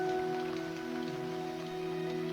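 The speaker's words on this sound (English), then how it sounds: "The rain." Steady rain falls throughout, a soft continuous patter under sustained tonal background music, with no voices.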